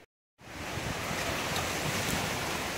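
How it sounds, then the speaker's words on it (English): Strong outdoor wind roars continuously against the microphone beside a yurt, loud broadband buffeting starting after a brief silence and holding steady for over two seconds. "Getting really windy out here."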